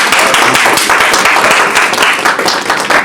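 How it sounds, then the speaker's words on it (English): Enthusiastic audience applause at a literary reading, a dense, steady wash of many hands clapping that fills the whole stretch at full loudness. "if we can just get a quick round of applause"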